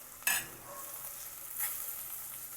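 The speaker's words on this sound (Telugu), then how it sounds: "ఇవన్నీ కూడా వేసి బాగా మాడిపోకుండా కలుపుతూ వేయించుకోవాలి" Dry spice powders with turmeric are stir-fried in a pan for rajma masala, giving a soft steady sizzle with a sharp scrape as they go in and another stirring swish later, close and fairly quiet, no voices.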